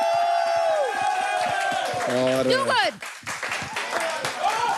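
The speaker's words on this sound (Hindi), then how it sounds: "बट आई थिंक एक बार अपने मेंटर्स के लिए ताली बजाइए" A live crowd at a grand-finale show claps and cheers for the mentors, the applause swelling under a host's voice and then breaking off into more talk.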